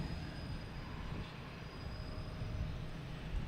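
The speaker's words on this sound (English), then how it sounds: "No, actually, it's a private jet." A Hawker 800 XP private jet at Boston Logan Airport makes a steady, broadband engine roar that holds at an even, moderate level from start to finish, with no voices.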